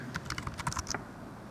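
Quick bursts of keystrokes on a computer keyboard type a short command in a quiet room, about a dozen light clicks in under a second, close and soft.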